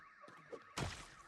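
Alarm wailing in Project Zomboid, a steady warbling tone rising and falling in a repeating cycle, joined near the end by a loud burst of broadband noise.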